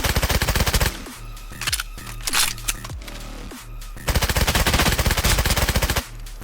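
Suppressed automatic gunfire in the shooter game Contractors Showdown: two long rapid bursts with scattered single shots and clicks between them, loud and close.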